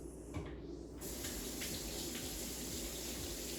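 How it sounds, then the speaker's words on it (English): Tap water runs steadily into a kitchen sink while hands are washed, a close continuous gush that gets louder and fuller after the first second, with no talking. "let me wash my hands."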